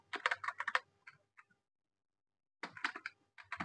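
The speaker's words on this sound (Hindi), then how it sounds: "कुछ भी टाइप कर लेना है जो भी हो" Typing on a computer keyboard while setting up text for a homemade rubber stamp: two bursts of quick, close keystrokes separated by a silent pause of about a second, with no talking.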